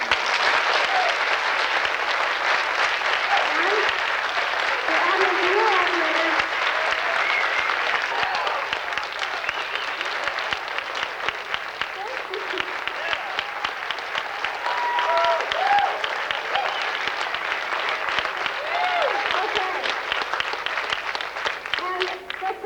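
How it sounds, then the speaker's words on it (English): A large theater audience at the reopening of West Seattle's Admiral Theater claps loudly and steadily for a long stretch, with crowd voices and scattered cheers mixed into the sustained applause. "They deserve the biggest applause of all."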